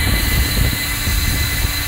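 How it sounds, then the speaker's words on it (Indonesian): A small high-speed electric fan powered from a solar panel setup whirs steadily and loudly at close range, a constant airy hum with no pauses. "Dan untuk kipas high speed mantap sekali teman-teman."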